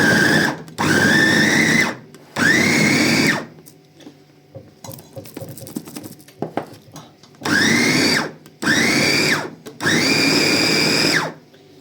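Blender pureeing a beetroot and carrot salad in a home kitchen, running in five loud bursts of a few seconds each, with a stretch of quieter clatter between the first two and the last three.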